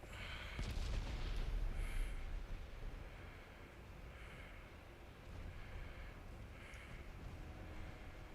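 Naval guns boom in repeated heavy salvos at a battleship in Ultimate Admiral Dreadnoughts, a dense rumbling barrage with several distant thuds spaced a couple of seconds apart, no talk.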